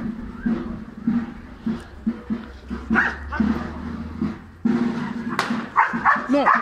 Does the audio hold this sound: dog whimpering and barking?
yes